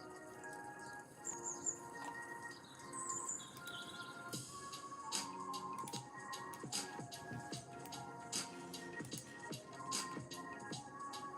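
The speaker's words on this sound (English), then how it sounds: "I heard birds and I was like, why are there birds outside?" Light chirping bird calls scattered through a quiet musical backdrop, soft and somewhat distant, with no talking.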